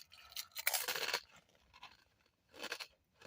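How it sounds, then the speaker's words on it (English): Someone crunches on chips while eating, with a few separate crisp bites and chews, close and quiet, and short pauses between them. "Look at that crunch."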